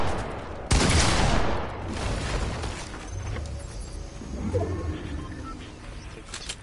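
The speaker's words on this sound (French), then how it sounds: "Il me tire dessus, je vois pas." Gunfire in a PC shooter game in creative mode, a loud close burst of rapid shots opening the passage, then quieter scattered firing and game ambience trailing off.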